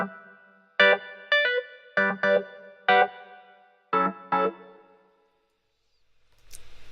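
Scarbee A200 electric piano keys with a funky vintage Joe's Jam preset play a series of short staccato chord stabs, echoed by reverb and delay tails, then fall silent before a brief noisy burst at the end.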